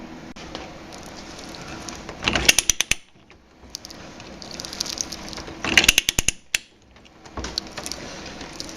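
A ratcheting pipe threading tool cuts threads onto galvanized pipe, giving repeated grinding, clicking strokes that rise in loud bursts with short pauses between them, close by.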